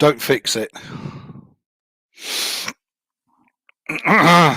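A sharp sneeze bursts out between stretches of conversation, one quick explosive burst with talking before and after it.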